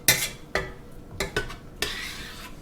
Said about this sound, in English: So she's mixing everything up.